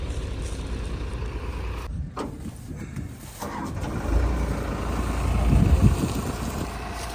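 Two tractors, a John Deere and a New Holland, strain together to pull a stuck Eicher sugarcane truck out of a field, a steady engine roar that swells louder toward the end, with wind buffeting the microphone.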